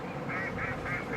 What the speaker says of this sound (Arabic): الجهاز ده فيه اصوات طيور اللي بتنزل البركه